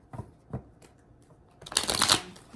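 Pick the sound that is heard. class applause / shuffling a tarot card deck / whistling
shuffling a tarot card deck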